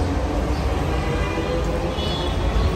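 A Dhaka MRT Line-1 metro train at Uttara station makes a loud, continuous close rumble and roar throughout.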